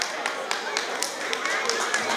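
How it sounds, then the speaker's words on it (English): An audience claps for MC Alexi at a live event, a dense run of hand claps with regular sharp accents, steady and moderately loud, with some speech mixed in. "Can we please clap for Alexi again"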